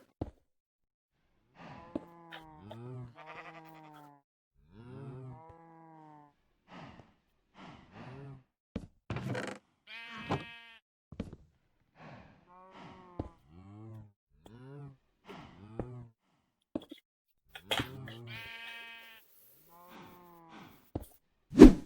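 Minecraft sheep bleat repeatedly in short, wavering baa calls with gaps between them, loud and close, alongside a few clicks and game sounds.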